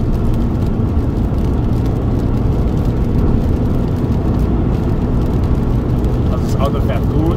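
A car driving along, heard from inside as a steady, loud rumble of engine and road noise that runs without a break, with a voice talking over it.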